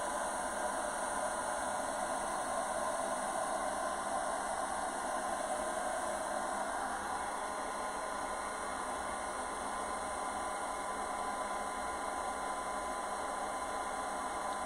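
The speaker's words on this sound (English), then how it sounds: "So this is my old hair dryer." An old hair dryer blows with a steady whooshing hum that runs unbroken throughout, a constant airy hiss with a faint motor whine beneath it.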